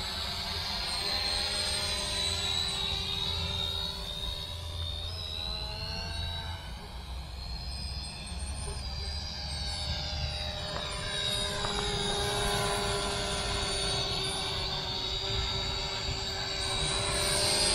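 A brushed Mavic Mini clone S162 toy drone hovers close by, its rotors giving a steady high whine with shifting tonal sweeps as it moves, continuous and loud throughout.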